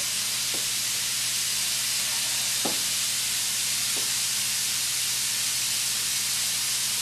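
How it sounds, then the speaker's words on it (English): Food sautés on a burner for chicken with chocolate sauce, a constant even sizzle and hiss with a few faint clicks and taps, nearby and steady. "I've got something on the burner. Okay, I'll let that saute a little bit."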